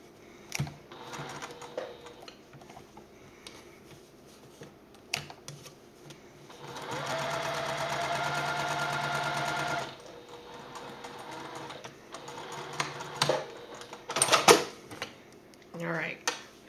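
A domestic sewing machine stitches an eighth-inch seam on a fabric fold-and-go wallet, running steadily for about three seconds mid-clip between quieter handling clicks and rustles, with a voice briefly present.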